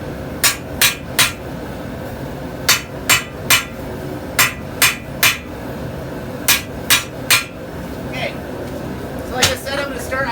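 Sharp metallic hammer strikes on hot 52100 steel at a forge ring out in quick bursts of two or three, pausing between groups, loud and close with faint talk underneath.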